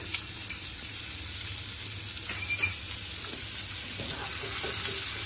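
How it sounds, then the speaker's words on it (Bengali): Chopped onion sizzles steadily in oil for a yogurt rohu fish curry, a dense close crackle with light stirring scrapes and a few taps of a spoon. "পেঁয়াজটা হালকা করে ভেজে নিয়েছি"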